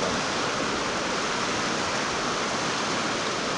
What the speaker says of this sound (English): just as there's a river flowing outside of us right here